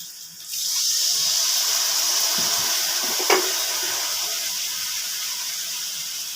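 Water is poured into a pan of simmering potato and pointed gourd curry, making a steady hissing gush that starts abruptly and runs on, with a brief clink partway through and no voices.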